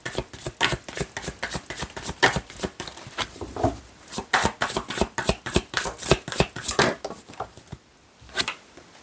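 A deck of tarot cards is shuffled close by, making rapid rhythmic riffling and flapping bursts that pause briefly partway through and then resume.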